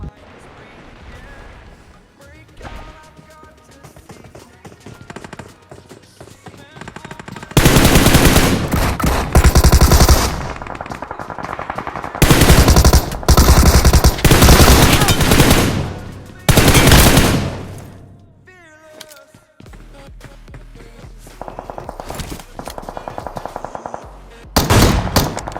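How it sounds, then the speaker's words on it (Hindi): Loud bursts of automatic gunfire and single shots from a BGMI mobile battle royale match, with an enemy shooting down from an apartment building; rapid volleys come in several dense waves separated by quieter gaps, with talk underneath. "अपार्टमेंट से भी हमारे ऊपर गोलियां आ रही होती हैं"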